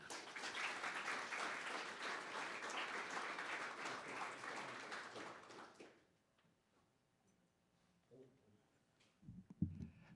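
A lecture audience applauds steadily to welcome speaker Daniel Shapiro, a dense wash of clapping that fades out after about six seconds, followed by quiet room tone and a few faint thumps.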